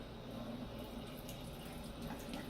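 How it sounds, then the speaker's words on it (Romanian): Water runs steadily into an eSpring water filter after its cartridge is replaced, a constant close hiss and trickle from a tap feed lasting throughout. "Dăm drumul la apă."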